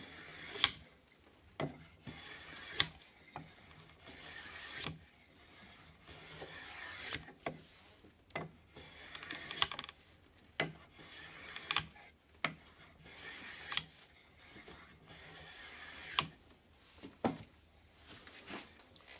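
A hand plane shaves a wooden bench leg in a series of roughly a dozen rasping strokes, each a brief scraping swish, close and steady in rhythm with quiet pauses between.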